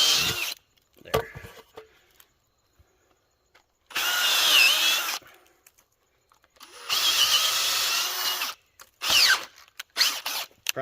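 A power drill bores into a standing tree in woodland while rebuilding a deer feeder, two loud sustained bursts of whining motor with short clicks and taps between them.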